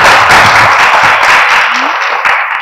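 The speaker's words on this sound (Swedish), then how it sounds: "Och ni får kanske lite applåder här också." A studio audience on a Swedish morning talk show claps steadily and close for the whole stretch, a dense even patter with only faint traces of voices beneath.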